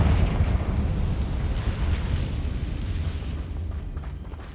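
Confringo fire spell blast in Hogwarts Legacy, a loud, rumbling explosive roar sustained throughout with dense low-end boom, no talking over it.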